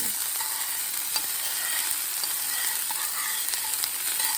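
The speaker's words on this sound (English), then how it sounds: "So I'm sort of stir frying them just a little." Steady, bright sizzling of red onions stir frying in a hot pan, with faint stirring scrapes, close and continuous with no voices.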